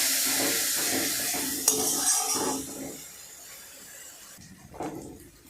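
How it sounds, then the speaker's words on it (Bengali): Masala paste for a pangas catfish curry is stirred and fried in a pan, with scraping spoon strokes and a soft sizzle that fade toward the end before one last stir. "মাঝে মাঝে মশলা একটু জল দিয়ে ভালো করে মশলাটিকে কষে নিতে হবে।"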